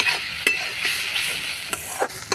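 Spice paste for raw banana kofta curry fries in a pan with a bright continuous sizzle, punctuated by a few crisp scrapes and taps of a spoon stirring it.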